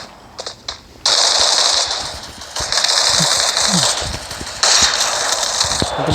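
Automatic gunfire in the mobile shooter game Free Fire, with a few quick shots and then long loud sustained bursts at close range, separated by short pauses.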